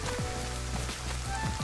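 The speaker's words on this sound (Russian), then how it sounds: "И дождь заканчивается." Rain in the DayZ survival video game, a steady dense patter of drops on surfaces with small splashy ticks, continuous and moderately quiet, no voices.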